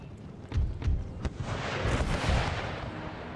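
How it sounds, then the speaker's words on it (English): Artillery fire in Empire Total War, a run of heavy booming cannon blasts that start sharp and low, then spread into a sustained rumbling barrage with a battlefield din underneath. "The all artillery smash those grenadiers."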